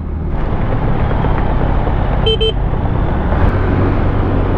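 Two short, bright horn beeps from an FKM LTS 125 motorcycle sound in quick succession over a loud, steady engine rumble and road noise.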